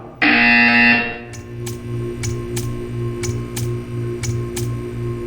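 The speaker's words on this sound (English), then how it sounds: "You will hear a buzzer." A loud electronic alarm tone sounds for about a second in the Portal 2 video game, followed by a steady series of short, evenly spaced ticking pulses over a low hum.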